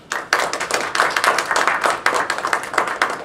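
An audience gives a generous round of applause welcoming Professor May Seikaly to the podium at a campus brown bag talk, a dense, steady clapping that starts abruptly and continues loud and unbroken throughout.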